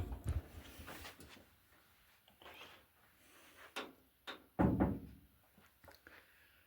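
The door of a classic Austin car under restoration opens with a few dull thunks and clunks of metal and latch, fairly faint and close, separated by quiet gaps, with no voices.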